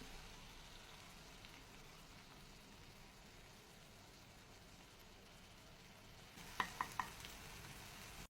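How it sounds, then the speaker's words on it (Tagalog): Beaten eggs for menemen hit a hot pan, giving a soft, steady sizzle that runs throughout, with a few light clinks near the end, quiet and without voices. "Ilagay na po natin yung itlog."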